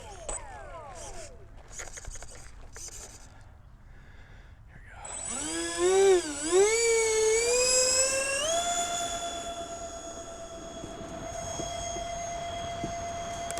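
A Dynam Me 262 model jet's engines spool up into a loud, rising whine that swoops and wavers before settling into a steady high pitch, preceded by brief quieter noises.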